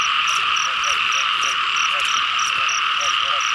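Frogs croak from water in a dense, continuous chorus, with loud repeated calls pulsing in a steady rhythm over a constant high-pitched insect-like drone.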